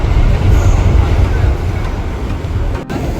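A New York City subway train arriving at Columbus Circle station gives a steady, loud, low rumble and rushing roar that fills the whole stretch, with a brief dip near the end.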